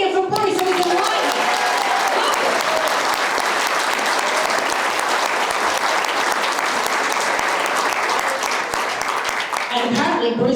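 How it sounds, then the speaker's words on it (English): Sustained audience applause at a talk event fills the whole stretch, loud, dense and steady, with a few voices and whoops mixed into the clapping before it tapers slightly at the end. "Now, a round of applause again for Bruce, who's delighted."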